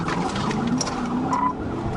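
A police cruiser speeds hard in a high-speed chase, its engine roaring steadily with tire squeal and skidding running throughout, loud and continuous with no pauses.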